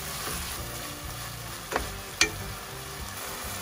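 Lamb mince with spices fries in a pan, making a continuous close hiss with two quick clacks of a utensil stirring near the end.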